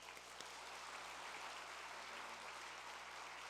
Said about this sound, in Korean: 우리 뜨거운 박수로 우리 목사님 환영하겠습니다